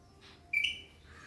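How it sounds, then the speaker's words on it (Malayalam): A racket-tailed drongo calls once, a short, fairly faint whistled note heard at a distance over quiet outdoor background. "ഡ്രോങ്കോ എന്ന് പറഞ്ഞൊരു പക്ഷിയുണ്ട്."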